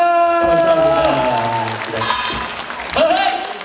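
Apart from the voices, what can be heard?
audience applause at a stage performance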